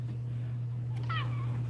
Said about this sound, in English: She just did a tiny little meow I talked over.